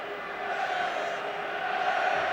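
Football stadium crowd at a Wales versus Italy Euro 2004 qualifier roars steadily from a distance, a broad sustained cheer that swells slightly without breaks.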